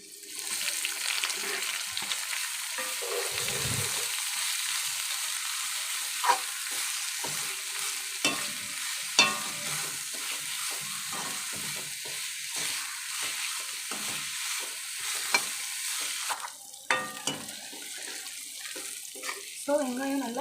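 Onions sautéing with garlic in a pan for tomato chutney, a steady close sizzle with scraping stir strokes now and then, continuous through the whole stretch.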